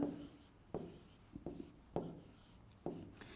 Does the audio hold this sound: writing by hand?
yes